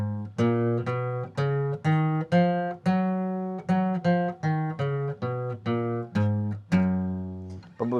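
A major scale played note by note on guitar, about a dozen clear plucked tones rising and then descending in an even rhythm, each ringing briefly before the next, close and clean with no talk.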